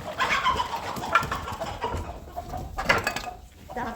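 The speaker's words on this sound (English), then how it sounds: "all of your chickens came right up to the gate when we got here" Cornish cross meat chickens cluck and squawk in a flock near a farm gate, several overlapping calls, fairly close and steady, with faint voices in the background.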